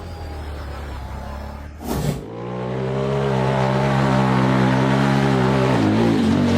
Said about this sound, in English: The black truck accelerated toward a high mound of earth, soared into the air, and then nosedived